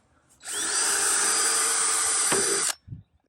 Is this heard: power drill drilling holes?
yes